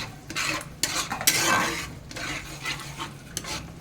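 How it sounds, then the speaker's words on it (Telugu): Oil, ginger, cinnamon, bay leaf, onion paste and yogurt being stirred together in a pot for mutton dum biryani, with steady scraping and rubbing strokes over a soft sizzle and occasional clinks of the utensil against the metal. "ఆయిల్, అల్లము, చెక్క, బిర్యానీ ఆకు, ఎర్రగడ్డ పేస్ట్, పెరుగు, ఈ 4 వేసి మిక్స్ చేస్తున్నాడు"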